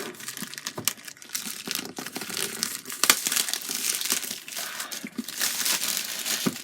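Steady crinkling and crushing of cardboard and packaging while unboxing an Oculus Go headset, with sharp tearing snaps scattered throughout, close by and continuous.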